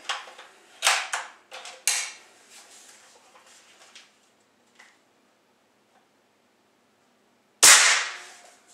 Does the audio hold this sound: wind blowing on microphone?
no